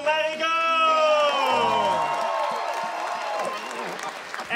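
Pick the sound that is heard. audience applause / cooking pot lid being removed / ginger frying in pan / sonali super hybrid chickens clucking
audience applause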